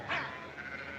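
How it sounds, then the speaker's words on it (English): Sheep being driven out and herded on a ranch, one loud nearby bleat near the start followed by a fainter, wavering bleat, with no talk over it. "Adam, help me get those sheep on the move."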